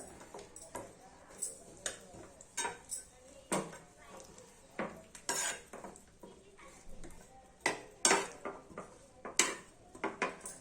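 A spoon or whisk works a sesame and jaggery ladoo mixture in a metal pot, giving repeated sharp scrapes and clinks at an irregular, unhurried pace, close and moderately loud.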